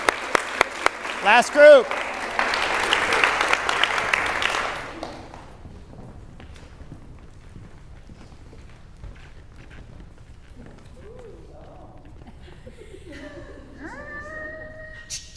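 Audience applause at a workshop session, a loud burst of clapping for a few seconds that cuts off sharply, followed by quieter room sounds, scattered clicks and a brief spoken voice.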